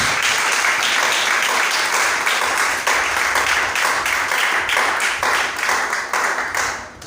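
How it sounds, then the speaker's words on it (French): A church congregation breaks into steady, dense applause, many hands clapping close and loud for several seconds before tapering off at the end. "Put your hands together."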